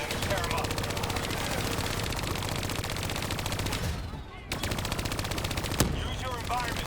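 Hijacked turrets in Call of Duty Black Ops 3 fire machine guns in loud, rapid, sustained bursts at close range, with a short lull midway before the firing resumes.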